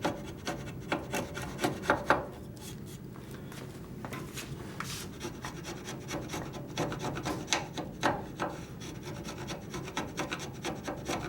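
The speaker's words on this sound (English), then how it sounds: "Let me see if I do just a little more shaving here" A hand chisel pares thin shavings from wood to cut a hinge mortise: a steady run of soft, close scraping and rasping strokes in an uneven rhythm, fairly quiet, with no talking.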